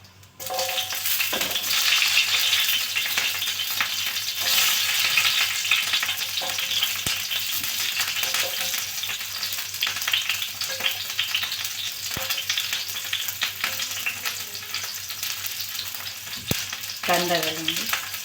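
Fresh tur beans fry with onion, chilli, tomato and dried sweet neem leaves in a hot pan, a loud continuous sizzle broken by scraping and clinking stirs, and a short scrape near the end.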